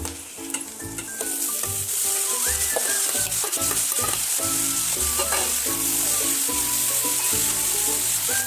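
Chopped banana flower sizzles steadily in a hot pan with oil and asafoetida, a continuous loud frying hiss throughout, while music plays underneath.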